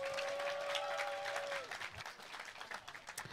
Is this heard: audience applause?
yes